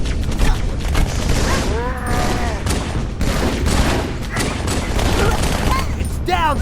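Rapid gunfire bursts and alien weapon fire rattle steadily through a Halo 2 battle, loud and dense for the whole stretch, with whooshing energy sweeps and voices shouting over the combat.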